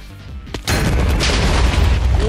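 A Wither blows up in Minecraft: one sharp, loud blast that cuts in abruptly, then a dense rumbling roar that holds steady to the end.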